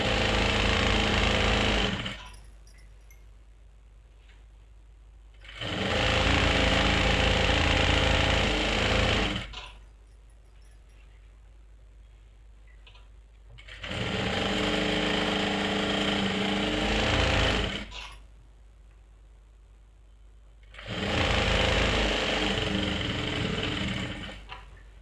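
A sewing machine stitches palazzo panels together, running in three loud, steady bursts of several seconds each, separated by quiet pauses.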